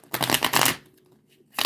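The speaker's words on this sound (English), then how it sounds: "I'm just going to give her a good shuffle" A tarot card deck is shuffled up close in a crisp riffling burst lasting under a second, followed by a quiet pause and a second short shuffle at the end.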